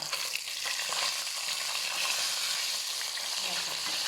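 Sun-dried tilapia fish frying in a pan with oil: a steady, close, bright sizzle that crackles on without pause and with no talking.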